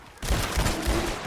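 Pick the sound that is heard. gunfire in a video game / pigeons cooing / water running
gunfire in a video game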